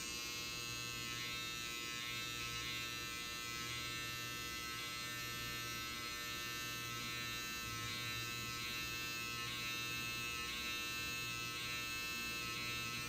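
An electric hair trimmer lines up a hairline with light tapping passes, giving a continuous close, steady high-pitched buzz that runs unbroken throughout with no talking.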